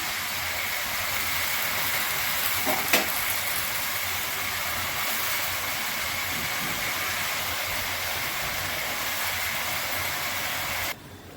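Fish head with Malabar spinach and pumpkin sizzles steadily in a hot pan, a constant broadband hiss that holds even for about eleven seconds before cutting off abruptly, with no talking.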